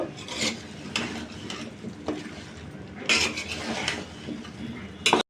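Vegetables being stirred and fried with spices in a pan for a surma fish curry with potato and eggplant, giving repeated scraping and clinking of a utensil against metal, with a few louder knocks.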